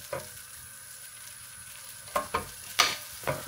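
Prawn heads being crushed with a spoon in a frying pan over a quiet sizzle, with four sharp scraping presses close by near the end, and no talking.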